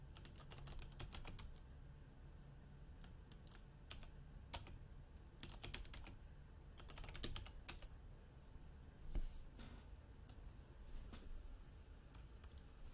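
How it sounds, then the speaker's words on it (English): Keys clatter on a computer keyboard as a super user password is entered during a Debian Linux install, arriving in quick, dense bursts with short pauses between them. The typing is close and fairly quiet, with no voices. "We're gonna type up our super user password"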